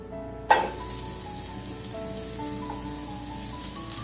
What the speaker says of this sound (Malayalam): ഇനി സവാള ചേർത്ത് വഴറ്റാം.